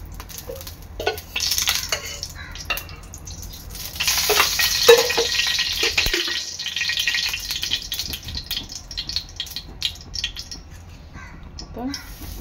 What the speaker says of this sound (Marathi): इथे आपला तवा चांगला गरम झालेला आहे, त्यामध्ये मी तेल टाकते।